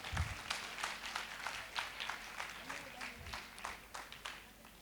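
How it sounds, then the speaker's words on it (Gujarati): A small audience applauding children at a devotional stage performance, rhythmic clapping with distinct individual claps, fairly faint and distant, with a voice briefly heard. "આ બધા બાળ ગોપાલ માટે બધા એક વખત માટે તાળીઓ પાડજો"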